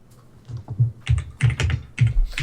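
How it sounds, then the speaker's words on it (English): Loud computer keyboard typing close to the microphone, a rapid irregular clatter of keystrokes in bursts, during an online tabletop game session. "your typing is very loud"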